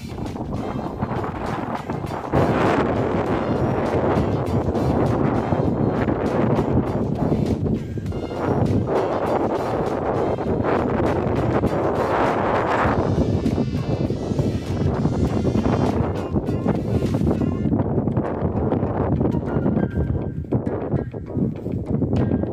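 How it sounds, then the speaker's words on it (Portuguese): Strong wind roars at Ourém Castle in Portugal, buffeting the microphone in a loud, continuous rush with gusty swells over more than twenty seconds. "O vento aqui tá forte, viu, gente? Muito forte."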